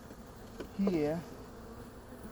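Honey bees at an opened hive during a queen release check: one short, close buzz as a bee passes by, rising and falling against quiet background noise, with a brief spoken word just before.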